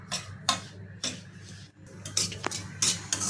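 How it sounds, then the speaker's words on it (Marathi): Coarse semolina roasting in ghee in a pan, heard as soft scraping and stirring strokes with light clinks of a spoon against metal, fairly close and steady, with no talk. "जाड रवा मी एक वाटी घेतलेला आहे त्याच्यामध्ये तूप टाकून आपल्याला ते भाजून घ्यायचं आहे"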